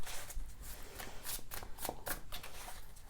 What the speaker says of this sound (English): Okay, I'm going to pull some cards here.